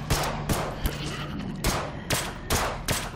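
Sharp gunshots crack out in the zombie strategy game They Are Billions, about eight loud bursts at irregular intervals with ringing tails between them.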